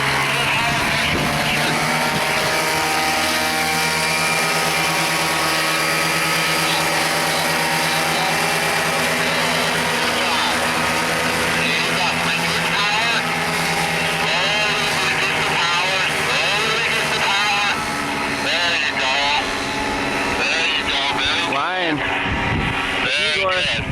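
A paramotor engine running under power during a first solo flight, a loud continuous droning buzz with propeller roar throughout, while voices talk over it.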